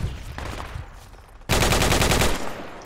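Sustained burst of automatic gunfire in the military shooter Project Reality, loud and close, starting abruptly midway after quieter background noise and rattling on without pause.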